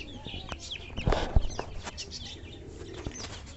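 Frizzle bantam chickens eating grass, jumping and snatching at it, make soft clucks and scattered wing flaps nearby, with a brief louder flurry partway through.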